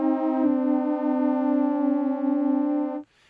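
Eerie sustained synth pad from the Zebra CM synthesizer, one steady held tone rich in overtones that drones for about three seconds before cutting off abruptly, alone and fairly loud.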